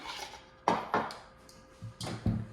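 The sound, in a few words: whisking soap oil mixture in a bowl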